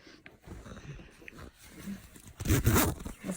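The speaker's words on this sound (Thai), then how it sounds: "รูดซิปขึ้นไปด้วย" A sleeping bag being zipped up inside an ice hotel: a quick, loud, rasping zip near the end, after quieter rustling and shuffling.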